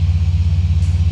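A single aircraft engine throttled down in the Prepar3D flight simulator, a loud, steady low rumble with a regular pulsing throb throughout the short stretch, heard alone with no talk.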